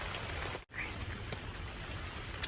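Steady rain patters on a tent at a campsite after a night of heavy weather, a dense continuous hiss with a brief gap and a few sharper drops, heard alone without talk.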